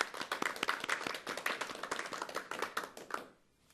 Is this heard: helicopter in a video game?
no